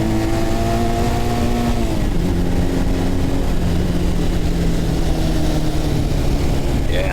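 An estate auction motorbike being ridden, its engine droning loud and close with shifting pitch as it revs and settles, steady noise throughout and no speech.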